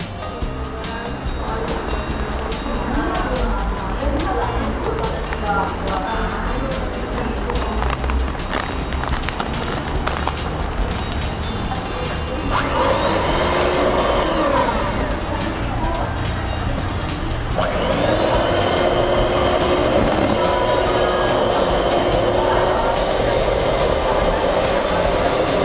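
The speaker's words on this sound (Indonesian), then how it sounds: "Nah, ini kita mixer sebanyak 2 kali." A soft ice cream machine's mixer churning ice cream powder batter, giving a loud, continuous mechanical whirring with a rhythmic clatter that shifts in tone partway through.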